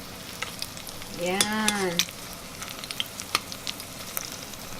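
Dried fish frying in hot oil, a soft steady sizzle with scattered crackles and pops running throughout, close by, with a short spoken remark partway through.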